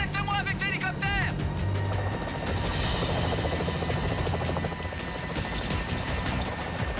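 A helicopter's steady rotor roar fills the scene, loud and continuous, with voices and scattered electronic beeps over it.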